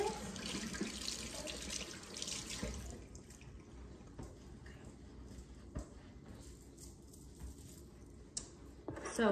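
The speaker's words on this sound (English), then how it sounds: "I'm gonna wash my hands" Water runs from a kitchen tap into a sink during hand washing, a steady close splashing hiss that softens after a few seconds and carries faint drips and handling noises.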